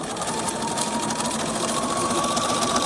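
Sewing machine stitching the seam of a fabric bag, a steady, close mechanical whir with rapid needle clatter running without a break, loud with no talking.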